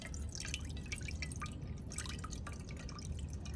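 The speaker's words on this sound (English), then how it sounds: "just gonna gently rinse some sterile water in here to clean that" Sterile water trickles and drips steadily while rinsing a patient's wound, a close, continuous wet patter with no talking.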